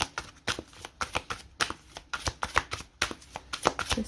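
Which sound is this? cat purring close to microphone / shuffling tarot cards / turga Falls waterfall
shuffling tarot cards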